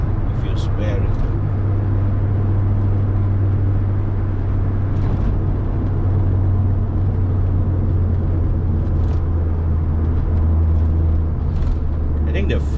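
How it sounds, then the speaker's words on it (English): A Fiat Coupe drives along a road during a weekday commute, heard from inside as a constant loud low engine and road rumble, with someone talking over it. "Oh, it feels good, man, driving this car."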